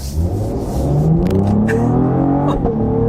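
A 2025 Cadillac CT5-V accelerates hard on a back road, its engine rising loud and close through the revs, with a brief shift break and a short pop near the end.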